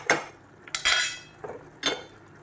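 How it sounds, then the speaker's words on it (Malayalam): Mango mustard pickle gravy stirred in a pan, a metal spoon scraping and clinking against the pan in three or four distinct bursts with quiet gaps between, close and fairly loud. "നന്നായിട്ടൊന്ന് ഇളക്കി"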